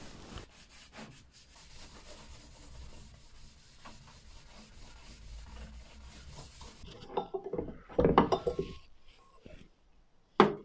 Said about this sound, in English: I give it a good buff with a cloth